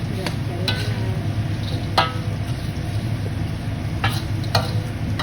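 Garlic fries in a pan with a steady close sizzle while a utensil stirs it, scraping and clacking against the pan a few times at irregular intervals.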